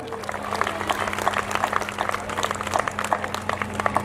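A crowd at a comedy and mimicry event claps in honour of a guest, a steady patter of hands under a constant low electrical hum, moderately loud and unbroken.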